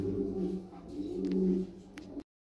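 Lahore Siraji pigeons in a cage give soft, low, rolling coos, close and continuous, for about two seconds before the sound cuts off.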